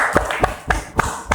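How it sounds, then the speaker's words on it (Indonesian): Classroom applause after a group presentation: five evenly spaced, close hand claps in a steady rhythm, heard alone with no talk. "Ya, beri aplaus lagi."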